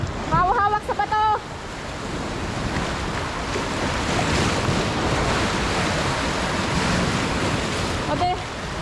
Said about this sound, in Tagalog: may alon na, may alon